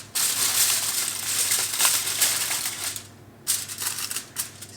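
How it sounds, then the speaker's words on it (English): Scissors cut through excess baking paper around a sourdough loaf, giving crisp crinkling and rustling snips close by, a steady run of cutting that pauses briefly before resuming. "I'm going to cut off this excess paper."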